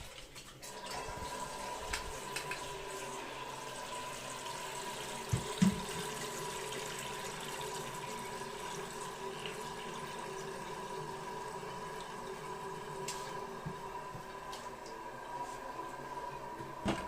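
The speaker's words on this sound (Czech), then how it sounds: "Samozřejmě zapneme vodu." Water runs steadily into a toilet cistern after the supply is turned on, a continuous hissing fill with slight gurgling, close and alone for the whole stretch.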